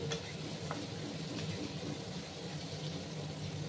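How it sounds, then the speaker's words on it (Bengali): Paneer pieces fry lightly in a pan with a soft, steady sizzle and a low continuous hum underneath. Faint stirring noises come through now and then. "একটু হালকা করে কিন্তু আমি পনিরগুলোকে ভেজে নেব, বেশি কড়া করে ভাজার প্রয়োজন নেই।"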